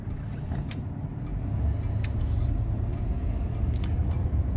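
A 1996 Ford F-150 short-box 4x4 pickup cruises down the road, with a steady low engine and road rumble that swells slightly as it gathers speed, heard from inside the cab.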